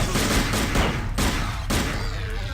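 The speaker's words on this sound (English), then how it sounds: "Eat some bullets" Rapid gunfire in the video game System Shock 2, loud bursts of shots fired in quick succession with brief pauses between volleys, filling the whole moment.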